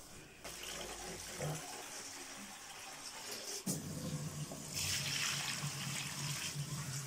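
Water pours into a washing machine holding a fiber quilt, heard as a rushing, splashing fill that shifts tone partway through and grows fuller toward the end.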